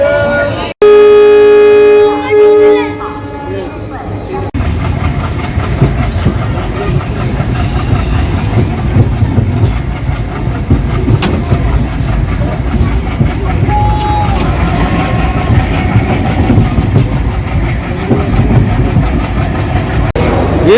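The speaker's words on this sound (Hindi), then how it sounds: "दाउंड जंक्शन है और Chennai central Mumbai Chhatrapati Shivaji Maharaj terminus superfast express यहाँ पहुँची है" The Chennai Central–CSMT superfast express at Daund Junction sounds a loud horn blast, then rumbles and clatters along steadily and close by, with faint voices in the background.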